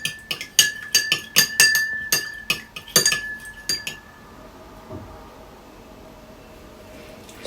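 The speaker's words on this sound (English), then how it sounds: "So give this a good mix." A hyaluronic acid solution with preservative is stirred in a glass, giving a quick run of bright, close clinks against the glass that stop halfway, followed by faint room noise.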